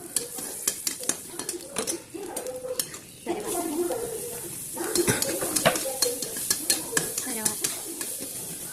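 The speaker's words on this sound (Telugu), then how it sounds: "తర్వాత చిన్నులపాయలు వేసేయాలి." Small onions sizzle in a pan for okra fry while a utensil stirs and scrapes in repeated clinks against the pot, close and steady throughout.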